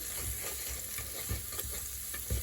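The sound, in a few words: stirring black-eyed peas pot seasoned with ground red pepper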